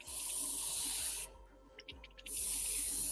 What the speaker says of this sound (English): I hate spraying white